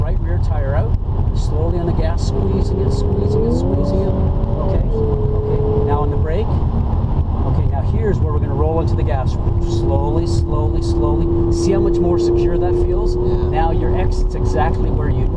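An Audi accelerates around a driving course as the throttle is rolled on, its engine note rising in steps through the gears under near-continuous coaching from an instructor.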